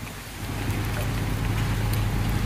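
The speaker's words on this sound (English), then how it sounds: "It's still raining." Steady rain falling outdoors along a coastal highway in Davao Occidental, a continuous even hiss with a low rumble underneath, no voices.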